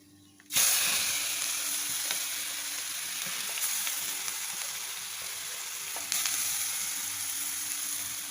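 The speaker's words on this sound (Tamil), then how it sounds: "ஒரு வடை சட்டி அடுப்பில் வச்சுட்டு கடுகு தாளிச்சிடலாம்." Mustard seeds and spices hit hot oil in a wok-like pan with a sudden loud sizzle that settles into steady frying hiss, flaring again near the end, while making Kerala rasam.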